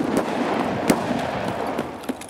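Shotgun blasts in the game Escape From Tarkov, a few sharp, loud reports spaced irregularly amid a busy, noisy background.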